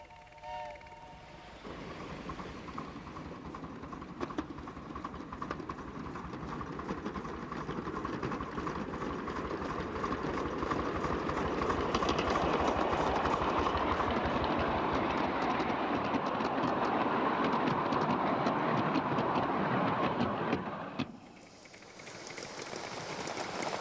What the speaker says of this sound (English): it is more than usually exciting to drive a train at night